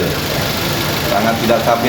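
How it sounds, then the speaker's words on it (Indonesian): A Toyota Avanza engine with a faulty DLI ignition idles unevenly, a loud, close, steady rumble that runs for the whole stretch. "getaran mesin ini sangat tidak stabil"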